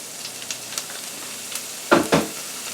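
Scallions sizzle in a hot pan with a steady, close hiss, broken near the end by two quick stirring scrapes.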